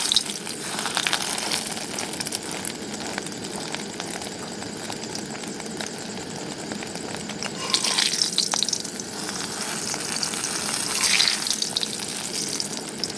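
Egg-dipped bread frying in a pan for breakfast, a steady close sizzle with crackling bursts that swell louder at moments, continuing without talk.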